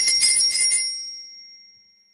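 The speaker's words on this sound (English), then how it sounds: "The bell above Bean's Brew jingled." A bell hung above a coffee shop door jingles in a quick cluster of bright metallic rings, then a single clear tone lingers and fades slowly into silence, with no voices.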